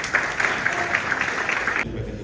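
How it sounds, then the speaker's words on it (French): An audience at a children's and youth book fair in Dakar applauds a prize-winning student from a dictation contest, steady dense clapping for about two seconds that stops abruptly near the end. "Sous vos applaudissements."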